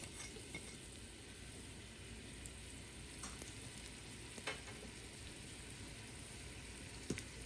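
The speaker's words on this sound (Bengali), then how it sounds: "এখানে 1 কাপের মতো তেল দিয়ে দিলাম, রান্নার তেল। তো এরপর দিয়ে দিতেছি পেঁয়াজ আর 3টা কাঁচামরিচ।" Sliced onion and three green chillies fry in about a cup of cooking oil, a faint, even crackling sizzle with occasional light scrapes and taps of a spatula.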